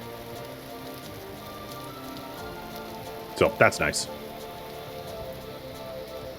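Rain falls steadily on farm fields in Vintage Story, a constant soft hiss throughout, with someone briefly talking over it midway.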